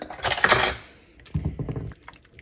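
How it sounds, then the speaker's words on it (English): Pasta with roasted broccoli and mozzarella stirred in a pan, a burst of close metallic scraping and clinking followed by a softer second round of utensil taps and clatter. "I'm going to give it a little stir"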